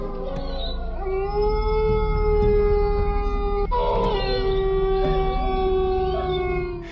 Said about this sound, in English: her presence had an unsettling effect on the local dogs, causing them to howl in response